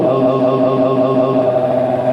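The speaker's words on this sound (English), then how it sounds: "the scatter effect that sounds like this, and it actually has a very interesting delay that changes the delay time based on your input." A voice processed through the scatter delay effect of a Roland AIRA VT-3 voice transformer, heard as a dense, sustained, pitched and smeared tone. It holds steady and fairly loud for about two seconds with no plain speech.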